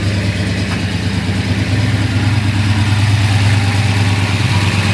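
A 1968 Chevelle SS 396 with a roller cam runs steadily close by, a loud, even low engine rumble with no revving and no voices.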